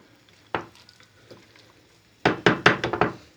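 Yogurt being mixed into a salad in a bowl with a utensil: a single scrape near the start, then a quick run of five or six sharp knocking strokes toward the end, close and fairly loud with no talking.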